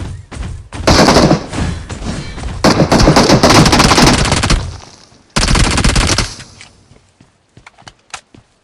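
Loud automatic gunfire from a bot in the BGMI battle royale game, sustained rapid bursts lasting several seconds, a pause, then another burst followed by scattered single shots fading out.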